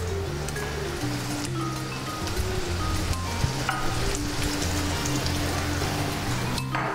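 Langoustines frying in a bit of oil over high heat give a steady, dense sizzle with faint crackles, close and continuous throughout, with low music-like tones humming underneath.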